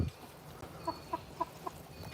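Chickens, including a small Silkie, cluck softly nearby in a coop in a series of short, spaced calls over a quiet background.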